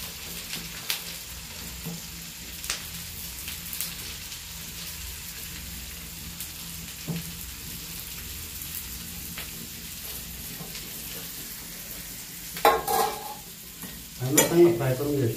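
Chopped onion frying in a pan for egg bhurji masala, a steady low sizzle with occasional stirring scrapes, then louder bursts of sizzling and spoon clatter near the end.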